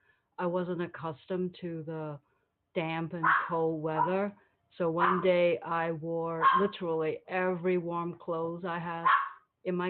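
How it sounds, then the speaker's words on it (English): Dogs bark in the background at home, largely masked by a person who speaks continuously over them. "I'm sorry about my dogs."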